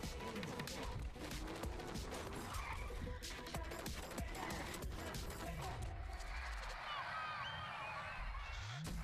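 Race cars skidding and squealing their tires at the start of a race, a busy mix of engine roar and tire screech with crashing hits, under a person talking and faint music.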